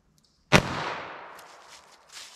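A single sharp gunshot from a .32 S&W Long revolver fired into ballistic gel, loud and close, with a long reverberant decay trailing after the crack.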